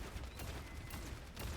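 Gunfire landing headshots in Overwatch 2, a dense spray of shots with sharp cracks standing out amid the continuous game noise, loud and close throughout.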